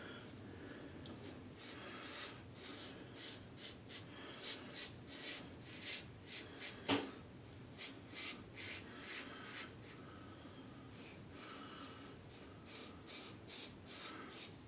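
Feather blade razor drawn against the grain over lathered skin, a quiet repeated scraping rasp in short strokes, close to the mic with no talking.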